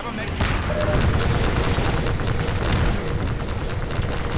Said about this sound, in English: Everyone's shooting at it